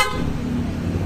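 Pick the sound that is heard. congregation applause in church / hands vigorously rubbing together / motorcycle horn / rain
motorcycle horn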